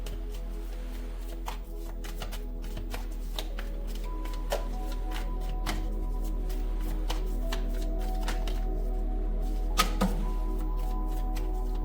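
Tarot cards being shuffled by hand in a steady run of soft, close riffling and tapping, with a low hum underneath and a few sharper clicks as the deck is handled, no talking.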